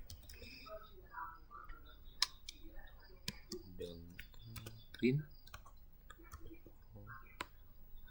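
Keys on a computer keyboard tap in scattered clicks during a programming lab session, with some voiced sound mixed in between the keystrokes.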